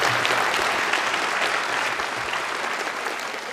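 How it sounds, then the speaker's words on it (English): An audience gives a round of applause for a professor at a lecture, steady dense clapping from many people at a fairly strong level that tapers gently near the end. "So a round of applause for your professor here."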